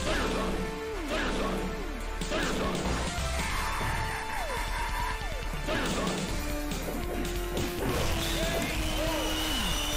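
Arcade beat-'em-up Final Fight LNS Ultimate plays a loud KO screen effect amid game sounds: heavy smashing hits and whooshes with rising and falling synthetic tones, continuous over about ten seconds.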